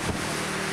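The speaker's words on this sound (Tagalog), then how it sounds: "Walang patid sa pagsayaw sa bugso ng hangin ng mga puno na sinasabayan ng buhos ng ulan." Strong typhoon wind roars along an Albay coastline with pounding waves, a steady broadband rush with a brief gust at the start, loud and continuous with no voices.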